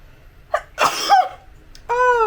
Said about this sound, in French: Là c'est une catastrophe, j'éternue toutes les 10 secondes.